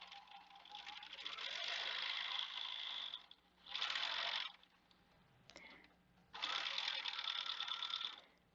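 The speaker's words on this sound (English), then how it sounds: "And we are going to back stitch." A domestic sewing machine back stitching a fabric tissue holder, with three bursts of fast, close mechanical whirring and clatter separated by short pauses, no voices.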